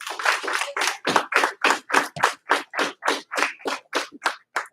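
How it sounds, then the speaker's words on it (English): A group keeps a clap-and-stomp cheer rhythm going, a steady train of sharp, loud percussive hits with short gaps between them, repeating evenly, with no talking. "Give him one clap, 2 stomps"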